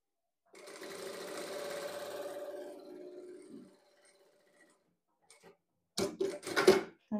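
Overlock sewing machine stitching a seam on a ruffled blouse, a fast, even mechanical whirr for about three seconds that then stops, followed by quiet handling noises and a short burst of rustling.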